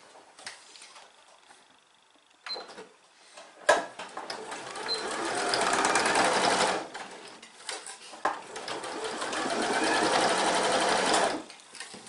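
A sewing machine stitches fabric for a lining in two sustained, rapid, buzzing runs, preceded by soft handling clicks and rustles, with brief pauses between bursts and no talking.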